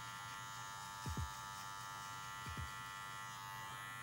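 Electric hair clippers buzz steadily, faint and close, while cutting an afro fade, with two brief dips in pitch as the blades pass through hair.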